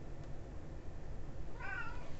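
A domestic cat lets out a single short meow near the end, faint against a quiet indoor room hum.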